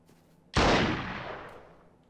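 A single loud gunshot in the shooter game Freeman: Guerrilla Warfare cracks out abruptly, then its broad, booming report slowly rings and fades away.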